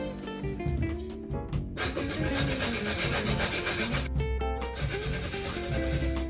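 A russet potato being grated for latkes gives close, rhythmic scraping strokes that repeat steadily, with a tonal musical layer running underneath.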